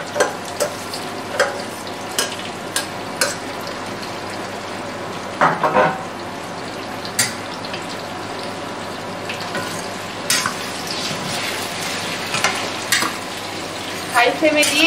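Chicken sizzles as it fries in a pan with tomato, under repeated scraping and clinking of a spoon stirring it, with sharper metallic knocks scattered through a long steady frying hiss.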